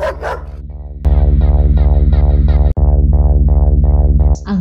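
A Leonberger, a huge crossbreed of Newfoundland, St. Bernard and Great Pyrenees, barks loudly and close in a steady rhythmic series of about ten deep, even barks, with a brief pause midway and no talking.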